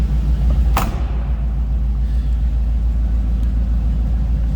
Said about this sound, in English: just a good sounding V8 underneath the hood